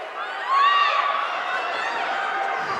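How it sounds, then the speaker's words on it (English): A packed crowd at a boxing match in the Liddesdale Johnson Centre swells into cheering and shouting, steady and fairly distant, with a whistle cutting through near the start. "Crowd getting behind these two in a packed house at Liddesdale Johnson Centre."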